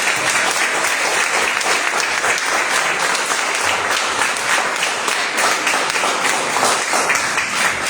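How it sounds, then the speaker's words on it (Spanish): A church congregation claps during an evening worship service, loud sustained applause from many hands, continuous and fairly close, with a few faint voices mixed into the crowd noise. "Si quiere aplaudir, puede hacerlo."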